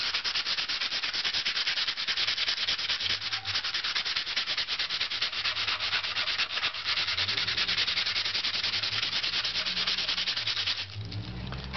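Dutch rush horsetail is rubbed along the grain of a spruce violin top plate in a dense, continuous scratching rasp, close and steady, ending just before the clip stops.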